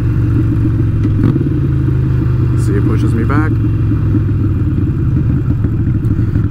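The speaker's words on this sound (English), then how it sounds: "I need to be slowing down, so I'm gonna apply some brake, downshift, blip. I'm using engine braking right now." Motorcycle engine rumbles steadily with a rev blip during a downshift and engine braking on the road, its low drone continuous under a rider's spoken commentary.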